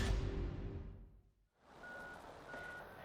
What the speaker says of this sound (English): You can hear some beeping in the background too.